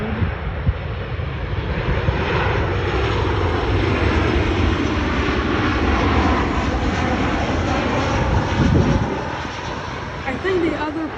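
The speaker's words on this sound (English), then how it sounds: "Another Southwest 737. The other one just landed." Southwest Boeing 737 landing at Cleveland Hopkins airport, a loud, steady engine roar and rushing wind that holds for the whole stretch, with no talk.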